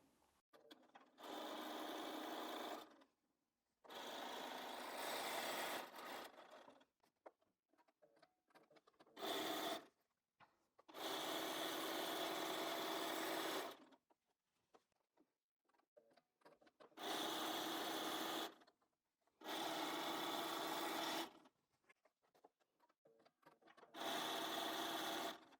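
A sewing machine chain-pieces quilt fabric pieces, running in six or so steady bursts of a few seconds each, separated by short pauses, close and loud with no talking.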